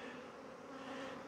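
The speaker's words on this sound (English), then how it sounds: "It's making them warm enough that the bees are flying." Honeybees flying around beehives in the sun on a November day, a steady close buzzing drone of many wings with no breaks and no voices.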